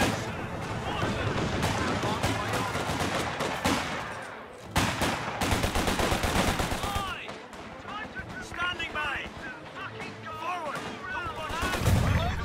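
Infantry squads trade gunfire in the strategy game Company of Heroes 2, dense repeated rifle and machine-gun bursts with a brief lull, mixed with in-game voices shouting.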